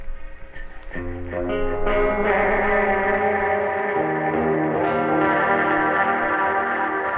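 Distorted electric guitar chords through a Klowra Everlast delay pedal ring out with a thick, echoing, wobbling effect, sustained, loud and noisy with repeats blurring together.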